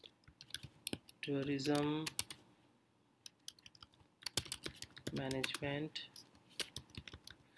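Keys clatter close up on a computer keyboard as text is typed in quick irregular bursts, with a person talking between and over the typing.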